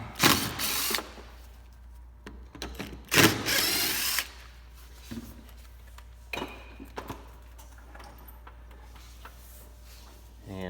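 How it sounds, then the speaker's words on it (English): A power drill fitted with a T30 Torx bit backs out the rear bumper bolts on a 2016 Honda Fit, giving short bursts of whirring and ratcheting separated by quiet pauses and a few clicks. "removing these two bolts using a T30 Torx"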